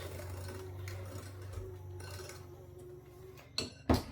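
Banana pudding cookie batter being mixed after vanilla goes in, a steady mechanical mixer whir running close and even, ending with a couple of louder clinks against the bowl.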